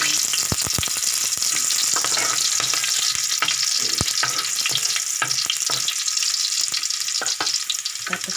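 Onion sautéing in a pan for a vegetable dish, stirred with a wooden spatula: loud, continuous crackling sizzle with frequent quick scraping and tapping strokes, close and without talk.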